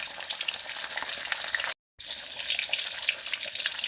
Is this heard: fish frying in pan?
yes